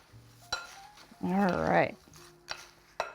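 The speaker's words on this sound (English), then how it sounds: "we want to just stir that up, because we kind of want to get some of those spices coated onto the dates" A spoon stirs spices and dates together in a bowl for pumpkin spice granola. It clinks sharply against the side, with a short scraping swirl in the middle, close up and otherwise quiet.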